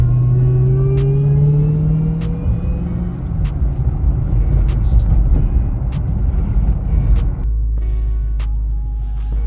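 A supercharged Dodge Magnum Hellcat with a hood fitted drives along, its engine droning loudly and steadily with rising then settling revs and supercharger whine, close and continuous with no talking.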